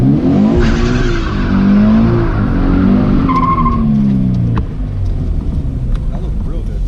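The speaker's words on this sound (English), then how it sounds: "When you drop the clutch and you feel the rear end kick out, you're going to let go of the steering wheel, but you're not going to come off the throttle" Scion FR-S drifting at a drift school, tires skidding and squealing under a loud engine held on throttle, continuous and close, with an instructor talking over it.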